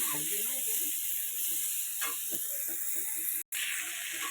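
A cauliflower and potato curry hisses steadily in a hot pan, with a brief clatter of stirring near the end and faint background talk.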